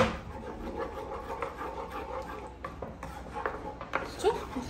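A spoon scrapes and knocks against a pot as a sardine tagine mixture is stirred after water is added, giving repeated soft clinks and rubbing sounds up close. A voice is faintly heard in the background.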